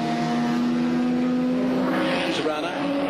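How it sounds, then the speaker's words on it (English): Holden Torana A9X race car in the Cadbury Schweppes livery passing on the Bathurst circuit during the 1979 race, a steady sustained engine drone under a race commentator's continuous talk. "Here he comes, the captain, Peter Janson, and the Cadbury Schweppes car"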